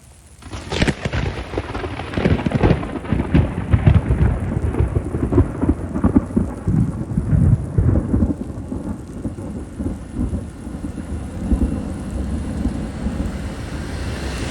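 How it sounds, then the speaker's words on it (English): Deep thunder rolls through a steady downpour, a long rumbling swell that stays loud for several seconds before easing into continuous rain with occasional lower grumbles; no talking. "Oh, there's some thunder."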